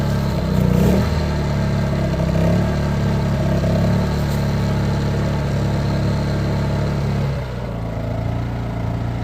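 A Harbor Freight 2500 watt inverter generator runs with a steady, moderately loud engine hum and a droning mechanical tone that holds evenly and then drops slightly near the end, with no talking.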